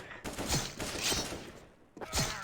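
Bursts of gunfire from a CS:GO match sound at moderate volume as several separate shots or short volleys over a couple of seconds, with faint voices in the background.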